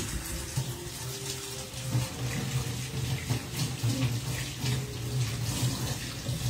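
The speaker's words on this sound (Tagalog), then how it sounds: "Lagyan ko siya ng konting tubig." Water being poured into a pot of chicken tinola, a soft steady trickle and splash running continuously for several seconds, fairly quiet and close.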